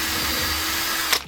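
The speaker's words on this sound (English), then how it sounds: "I drilled a hole through where the bolt was going to go." A power drill whines steadily while boring a hole for a bolt through a handmade prop grenade, running at a constant pitch for about a second before the bit stops abruptly.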